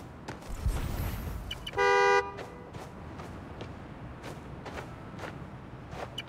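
A single loud car horn blast, lasting about half a second, sounds amid steady city street noise and faint scattered clicks in the Spider-Man Miles Morales video game.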